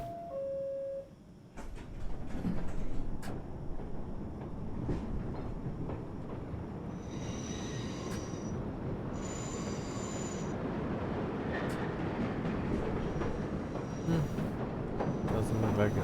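A subway train pulls away from a station in the video game World of Subways 4, with a steady rumbling roll and high metallic wheel squeals bursting in partway through, a voice talking over the noise early on.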